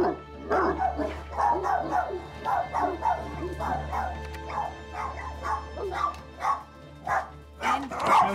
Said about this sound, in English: I think I'm at the right house, because I can hear the dog from here.